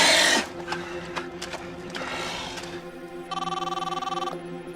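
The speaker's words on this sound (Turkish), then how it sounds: "Telefon, telefonum." An electronic telephone ring trills in a rapid pulsing burst near the end, following some rustling and clattering movement.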